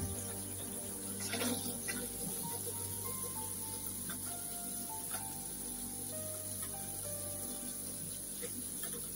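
Shower water running at full flow after unclogging a drain, a steady broadband hiss of spray filling the whole stretch at an even level, with faint clatter underneath.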